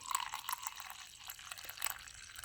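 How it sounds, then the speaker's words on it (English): Tea being poured from a pot into a cup on a tray, a soft, steady liquid trickle with a few faint drips, quiet and close, with no talking. "Try and pour my tea"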